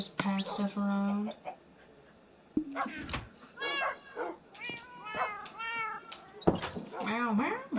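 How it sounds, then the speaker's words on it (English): Cats meowing in a video game, several drawn-out calls in a row, loud and close, with a person talking over and between them. "The cats communicate."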